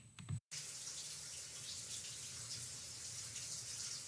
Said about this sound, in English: Listen to the water running.